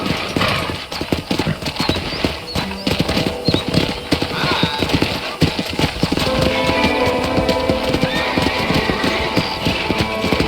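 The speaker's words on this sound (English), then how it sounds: "let's see if you can still ride a horse." Horse hooves clip-clop in a Western open-world game, with a steady rhythmic trot close by, a neigh among the hoofbeats and a busy background of riding noise.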